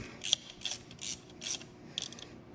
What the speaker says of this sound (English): So I'm just going to hold some pressure on it and tighten it up.